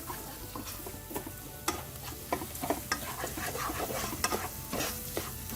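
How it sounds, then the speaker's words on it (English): A thick spice paste sizzles steadily in a pan over a low flame while a spoon scrapes and stirs through it in irregular strokes, close up, with no talking. "continue frying for another 2 to 3 minutes on low flame"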